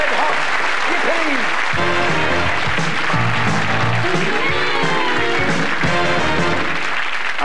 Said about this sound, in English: Now, blue team, give them a round of applause.